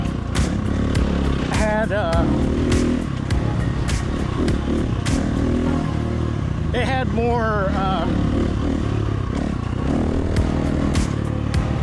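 A motorcycle engine fitted with a Tokyo Mods Vortex ECU runs steadily and loudly throughout, a constant low drone with rattling clatter, while a voice talks over it in a few short bursts.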